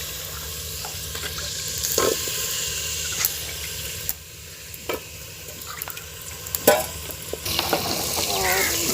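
Boiled potatoes go into a hot pan for a village-style vegetable dish, giving a steady frying sizzle broken by sharp scraping stir strokes and clatter, loud and close throughout.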